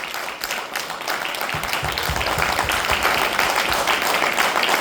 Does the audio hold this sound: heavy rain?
no